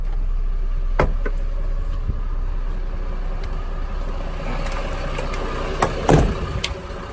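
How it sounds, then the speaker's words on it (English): A 2015 Hyundai 5-ton long-deck cargo truck with a 270-horsepower engine idles steadily at close range, with a low constant rumble and a couple of brief knocks or clunks. "Engine sound is good."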